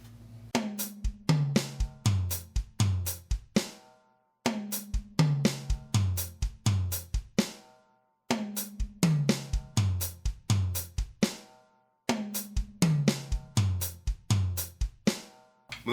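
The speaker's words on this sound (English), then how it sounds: "So let's hear the whole thing now, but we're going to add that last right hand on the snare drum." Linear tom groove played on a drum kit with a right-hand snare hit added: four repeated bars of crisp tom, snare and kick strokes in a steady pattern, close and loud with no talking.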